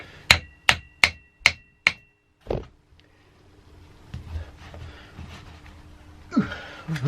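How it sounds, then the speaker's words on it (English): A screwdriver taps a Mikuni VM32 carburettor from a Royal Enfield Classic Bullet, five quick sharp metallic knocks in even rhythm followed by a duller sixth tap, then quiet handling noises. "I'm just going to tap it gently with the screwdriver to loosen it"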